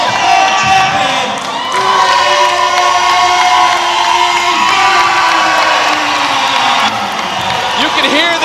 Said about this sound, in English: You can hear this ruckus crowd.